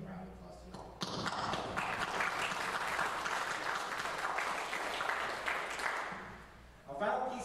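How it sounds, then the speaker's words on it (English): A concert audience at a university pops performance bursts into applause after a brief voice, a dense roar of clapping that holds steady for several seconds before fading, followed by a voice again. "I just want to give a round of applause to y'all"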